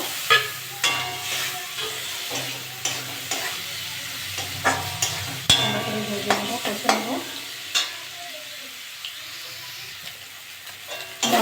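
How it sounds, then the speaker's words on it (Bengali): Small fish fry in a pan with ginger-garlic spice paste, a steady sizzle running throughout while a utensil stirs and scrapes in repeated loud clatters, close and without talk. "মশলার সঙ্গে মাছটা ভালো করে ভেজে নিয়েছি আমি"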